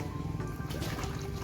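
Water is poured onto a porous planting medium for grape vines and drains away at once, making a soft, close trickling and liquid gurgle that is fairly quiet and has no talk over it.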